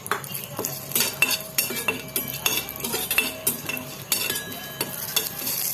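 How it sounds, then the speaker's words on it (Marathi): Whole spices (white cardamom, cinnamon, cloves, black pepper, star anise and bay leaf) are sautéed in a pan, heard as a quick run of metal spoon clinks and stirring scrapes over a soft sizzle. "दालचिनी, लवंग, मिरी, चक्रीफूल आणि तमालपत्र हे आपण असं व्यवस्थित नीट परतून घ्यायचं आहे."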